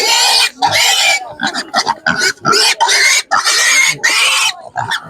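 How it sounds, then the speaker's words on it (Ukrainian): Piglets squealing at an animal market, loud, shrill, sustained squeals in repeated bursts close by, with brief grunts between them. "Подивіться, які порося."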